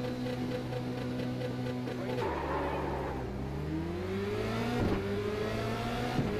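Formula Renault 2.0 engine in iRacing at a race start at Zolder Circuit, idling steadily before revving hard and climbing through gears, with several other cars' engines droning around it, moderately loud and continuous.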